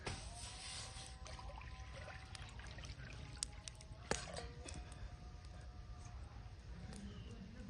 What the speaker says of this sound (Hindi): अब हम इसके अंदर डालेंगे पानी।